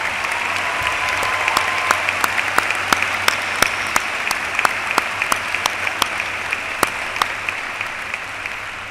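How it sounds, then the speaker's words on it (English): A ceremony audience claps for staff and faculty in sustained, steady applause filling a large hall. Dense clapping holds at an even level throughout, with no voices over it. "How about a round of applause for our terrific staff and faculty?"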